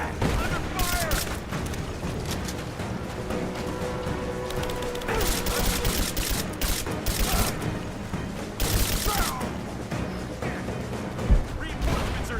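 Enemy soldiers' gunfire in Rise of the Tomb Raider: dense, continuous bursts of rifle fire and cracks layered with shouting voices, loud and chaotic throughout.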